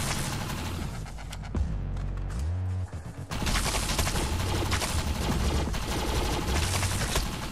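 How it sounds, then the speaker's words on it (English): Automatic gunfire hammers at enemy shields in the shooter video game Defiance, dense rapid bursts with a brief pause and a descending whine before the firing resumes loud and sustained. "Okay, so shooting at their shields"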